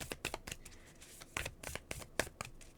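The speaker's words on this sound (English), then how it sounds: "alright, I'm shuffling" Tarot cards being shuffled by hand, a run of crisp riffling and flicking bursts with short pauses between them, close and clear with no talking.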